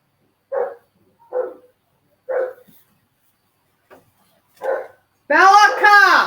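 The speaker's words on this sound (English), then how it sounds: "Sorry, my dog." Dog barks several times in separate single woofs, then a louder, longer yelping burst at the end; a household setting, close and clear.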